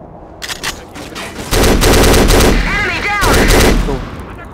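Loud, rapid gunfire and machine-gun bursts in the video game Black Bat, in a foundry mission, sustained automatic volleys with whooshing and ricochet-like whines layered over heavy combat rumble.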